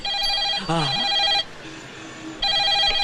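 A telephone rings with a repeated electronic trill, two bursts separated by a pause, and a voice speaks briefly over the first ring.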